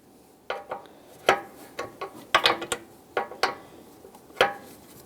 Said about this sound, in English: continue on tightening it with your 16mm wrench